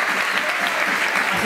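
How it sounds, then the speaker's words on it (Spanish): Crowd at the seniors' lunch during the 2018 Ojén village fair in Spain gives steady, dense applause, loud and continuous throughout. "este aplauso fuerte para vosotros por seguir ahí"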